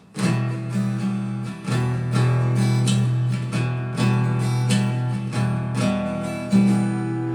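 A steady acoustic guitar strumming pattern repeats for several bars, with accented bass-string downstrokes, bright and close with no voices.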